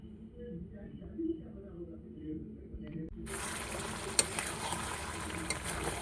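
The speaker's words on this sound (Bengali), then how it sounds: "5 মিনিট অন্তর নাড়িয়ে চাড়িয়ে জিনিসটাকে রান্না করে নেব" Mutton kosha cooking in an open pan, a low muffled rumble that suddenly opens into a loud, steady sizzle with stirring scrapes and one sharp clink, continuing close and even to the end.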